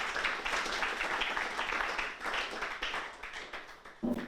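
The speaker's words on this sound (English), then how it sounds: "Small applause, please." A small audience claps at an evening talk in a hall, brief and moderately loud applause that fades out, followed by one sharper knock at the end.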